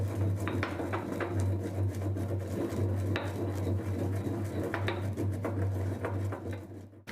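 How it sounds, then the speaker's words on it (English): Peeled cardamom seeds are ground into fine powder in a stone grinder, giving a steady gritty rubbing and scraping with a constant low hum underneath and occasional clicks, close and continuous. "grind the seeds into a fine powder"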